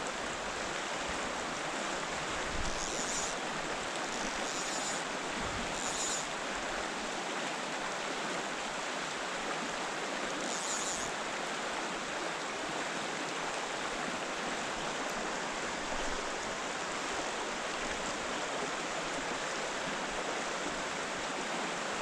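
A river flows steadily through a 22-second stretch of late-afternoon trout water, a broad, even rushing that never lets up, with a few faint splashes or clicks near the start.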